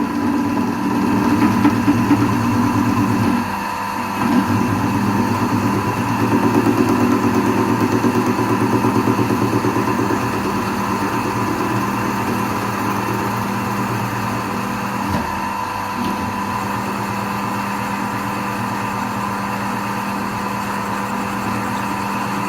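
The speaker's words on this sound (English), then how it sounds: "So now we've spot faced a section there" A drill driving a counterbore to spot-face the start of a 10mm hole on an angle, producing a steady, close mechanical drone with a brief dip near the start and no talking.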